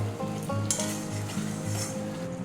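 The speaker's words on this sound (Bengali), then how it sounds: "এইভাবে মশলাটা ভালো করে ভেজে নিলে খুব ভালো টেস্ট হয়" Spice paste for banana flower curry (mochar dalna) fries in hot oil, giving a steady close sizzle with occasional stirring scrapes throughout, and no voices.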